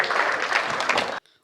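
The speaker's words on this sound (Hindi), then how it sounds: "जोरदार तालियां" An audience at a Hindi comedy poetry gathering claps loudly for a poet, a dense burst of applause for about a second that cuts off abruptly.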